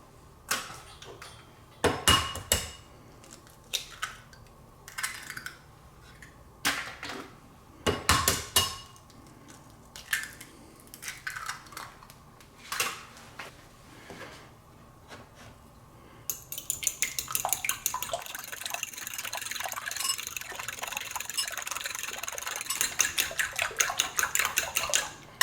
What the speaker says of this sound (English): now we're just going to crack our eggs in here and give them a good scramble